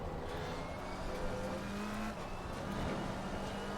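McLaren 720s EVO racing car in Assetto Corsa Competizione at Circuit of the Americas, its engine roaring at full throttle through an upshift to third, with a steady loud drone, a brief dip at the shift and faint tyre noise, no talk.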